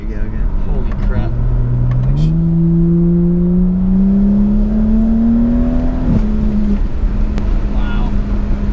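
A 350 whp 2011 BMW 135i accelerating hard, its engine note climbing steadily through a long rising pull before a sharp shift drop, loud and close from inside the car, with excited talk over it.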